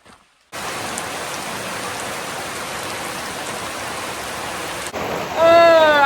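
Steady rain patters down along a hiking trail near a shelter, starting abruptly and holding a dense, even hiss before a louder burst with a brief whistle-like tone at the end.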